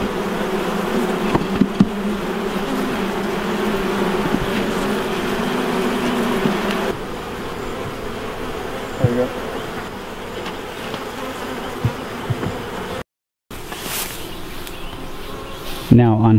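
A crowd of honey bees hums steadily around an open hive, the dense buzzing close and continuous, easing slightly partway through as a person talks and handles equipment, with a brief dropout and some clatter near the end.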